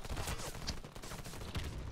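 Rapid bursts of gunfire from the shooter video game Warface crackle continuously through the whole stretch, dense and fairly loud, with sharper shots standing out now and then and no talk over them.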